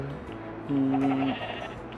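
A single synthetic-sounding sheep bleat rings out clearly, lasting about half a second over quiet game background noise.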